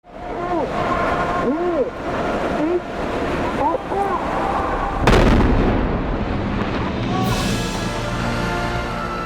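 A dam being demolished gives off a sudden heavy explosive blast partway through, followed by a long rumbling roar of falling debris, with strong background noise and chirping sounds before it.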